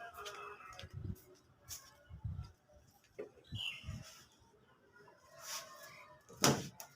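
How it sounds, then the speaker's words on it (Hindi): Birds chirp in the morning in a terrace garden, a few short calls against a quiet outdoor background, with a voice talking softly at times. "आप भी महसूस कर रहे होंगे कि सुबह जो आवाज़ें आ रही हैं चिड़िया की, मंदिर की, वो कितना दिव्य लग रहा है।"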